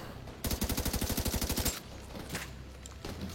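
Rapid automatic gunfire in a tense firefight, a loud burst of about a dozen evenly spaced shots over roughly a second, followed by quieter scattered noise and distant rumble with no talk.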